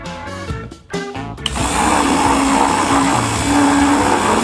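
A blender mixing lemon and lime juice with water starts up after a few clattering sounds and then whirs steadily at high speed, loud and close.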